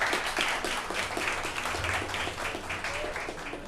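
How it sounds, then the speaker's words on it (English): A big round of applause from a livestream audience, steady dense clapping that holds at an even level for several seconds without speech over it. "Big round of applause."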